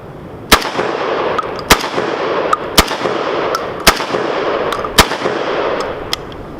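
VEPR 12 AK-pattern shotgun firing Winchester shells from its factory magazine: five loud sharp shots at roughly one-second intervals outdoors, with a faint distant shot or two in between.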